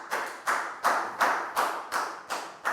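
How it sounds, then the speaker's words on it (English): A classroom of Year 4 pupils claps for a classmate in a steady, even rhythm, about eight distinct claps, moderately loud and close, with no talking. "High five and a big round of applause for Pat, please, guys."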